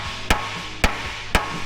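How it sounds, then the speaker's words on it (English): Three sharp, evenly spaced hammer taps ring out up close on a truck frame, each a crisp metallic strike against a quiet background. "I'm gonna use the hammer and tap it and hopefully release some pressure"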